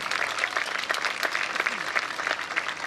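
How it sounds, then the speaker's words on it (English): Applause from a homecoming pageant audience for the contestants, many hands clapping in a continuous, fairly close wash with individual claps popping out, steady throughout. "How about another round of applause for all of them?"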